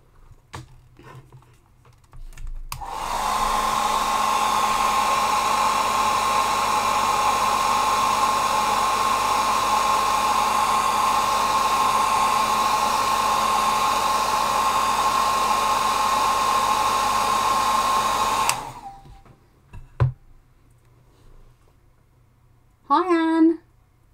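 A hair dryer runs steadily for about fifteen seconds, drying paint on a dragonfly painting, a loud constant whir with a high whine that starts and stops abruptly, followed by a few faint clicks and a brief voice.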